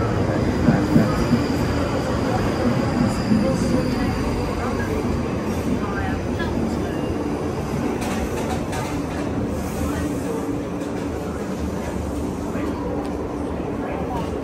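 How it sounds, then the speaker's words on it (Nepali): A South Western Railway train arriving at a station in London rumbles steadily close by with rolling wheel noise and faint squeals, voices talking over it. "अब हामी जाने रेल पनि आइसकेको छ"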